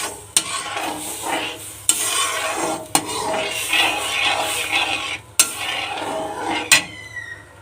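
Food frying in a pan on a home stove, a steady sizzle broken by repeated clinks and scrapes of a utensil stirring against the pan, close and moderately loud, with no talking.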